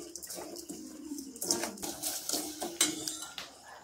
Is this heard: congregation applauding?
no